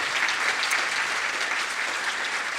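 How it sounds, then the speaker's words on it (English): Audience at a community healthcare event applauding the panelists, dense even clapping from a sizeable crowd sustained throughout, with no break. "Give a round of applause to our panelists."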